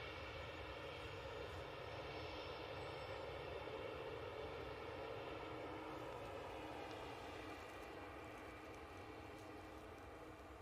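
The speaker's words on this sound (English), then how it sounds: "on the way out, we have this Aer Lingus A330" Aer Lingus Airbus A330 jet departing, a faint steady engine roar with a low rumble and a sustained mid-range hum, holding even and distant throughout.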